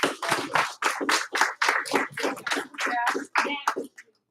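A classroom group of students claps in unison for a classmate, a loud, nearby, rhythmic run of about a dozen crisp hand-claps in quick succession, stopping abruptly.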